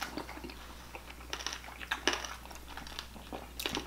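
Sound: chewing and biting crunchy pork belly

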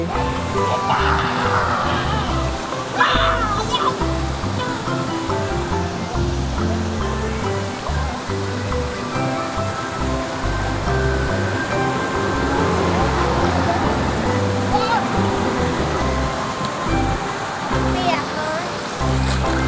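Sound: koi carp crowding and splashing for food in pond

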